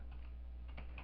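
A few light keystrokes on a computer keyboard, soft scattered taps over a low steady room hum, brief and close.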